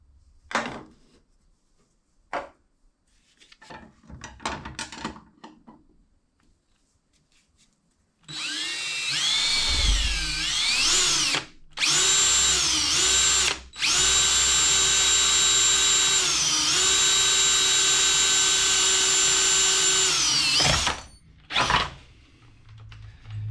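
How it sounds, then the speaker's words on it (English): A power drill whines steadily as it bores a 1-inch hole in a PVC end cap, with the pitch dipping under load and brief pauses; light handling noises come beforehand. "we're going to start by drilling the 1-inch hole in the end cap"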